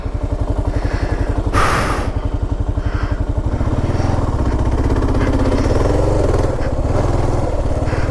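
A KLR motorcycle ridden through sand: a loud, close engine putters and revs, with a brief sharp burst of clatter early on, then a steadier, rising drone.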